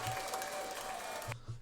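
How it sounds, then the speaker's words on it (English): Applause sound effect played during a podcast, a burst of crowd clapping lasting over a second that cuts off abruptly, leaving a brief low hum. "Let me see if I got clapping sounds in this joint."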